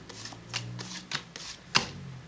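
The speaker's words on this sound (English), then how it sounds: "So you want to deal 7 cards to each person." Uno playing cards are dealt one at a time, with a handful of soft, papery flicks and slaps landing at a quick, uneven pace. The sounds are close and quiet, with no talking.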